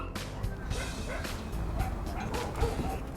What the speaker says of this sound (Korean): 홀로 남겨져 있으면 누군가 올 때까지 계속 짖는 이상 행동.